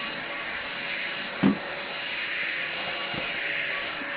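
An Aldi Ambiano vacuum cleaner runs steadily close by on a Persian carpet, its broad whooshing drone continuous throughout with a brief bump partway through as the nozzle catches the pile.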